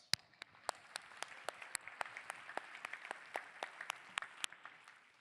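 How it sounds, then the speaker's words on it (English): Gala audience at a charity event clapping after thanks to volunteers and staff: a fairly quiet, sparse round of distinct claps from a modest crowd, with individual hand strikes clearly separated rather than a dense roar. "everyone's hands are tired from clapping"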